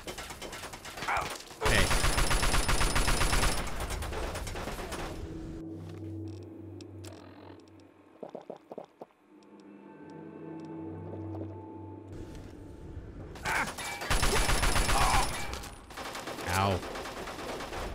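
Automated turret in Fallout 3 firing loud, dense bursts of gunfire at the start and again near the end, with quieter clanks and game sounds between them and a short voice exclaiming over the shots.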